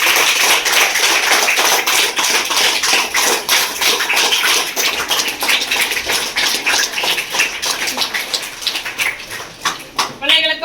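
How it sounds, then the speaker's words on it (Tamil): At a school seed festival, teachers and students applaud together in a dense, close burst of clapping that thins into scattered claps toward the end. "எல்லா ஆசிரியருக்கும் மாணவர்களும் சேர்ந்து ஒரு கைத்தட்டல் கொடுக்கும்."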